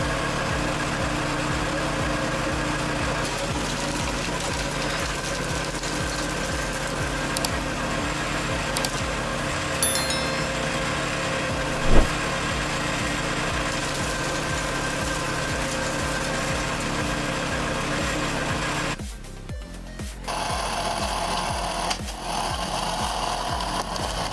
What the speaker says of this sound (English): That PTO wood chipper keeps pulling branches straight into the drum without slowing down.